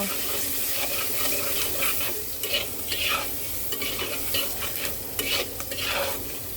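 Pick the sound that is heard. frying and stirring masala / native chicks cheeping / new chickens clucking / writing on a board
frying and stirring masala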